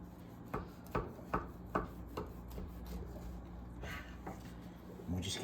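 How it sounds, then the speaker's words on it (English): A knife saws back and forth through the end of a loaf of homemade cinnamon bread with a steady run of short, quiet strokes, followed by a soft scrape as the slice comes free. "I'm just going to cut this end off real quick."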